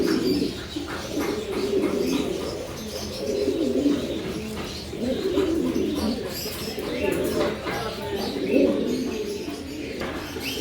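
German Modern pigeons cooing in a cage, repeated low rolling coos in overlapping waves at moderate loudness, with faint chirps in the background.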